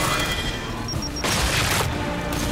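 Frag grenade blowing up in Gears 5, a broad burst with a low thump and scattered debris-like crackle over steady game ambience, brief beeping before it, and a voice faintly audible.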